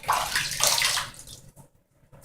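Hot water splashed and rubbed onto the face before shaving: a loud wet burst of splashing over the first second, then quieter drips and small trickles trailing off, with no voices.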